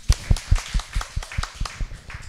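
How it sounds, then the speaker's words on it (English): A small audience at a panel discussion on climate change claps in a brief, fairly quiet round of applause, with individual claps clearly spaced. "Big round of applause for Cornelia."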